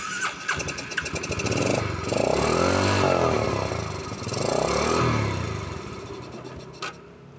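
A Yamaha Jupiter Z motorcycle with a leaking carburetor vacuum membrane that will not idle, started up close and loud, its engine rising through two swelling revs before dropping back and cutting out.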